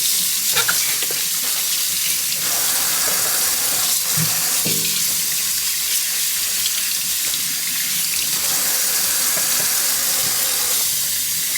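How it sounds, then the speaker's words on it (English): A lemon being rinsed under a running kitchen tap, with a steady broadband rush of water over the fruit and sink, close and continuous for the whole stretch, with a few small splashes and clunks and no talking. "And then I'm going to rinse the lemon"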